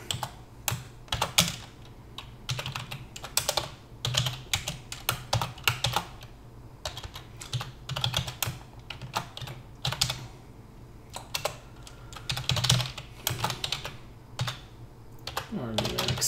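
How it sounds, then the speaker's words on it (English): Rapid, irregular clacking of typing on a computer keyboard, close and continuous, in bursts with short pauses and no talk. "I'm telling you, I'm not typing well today"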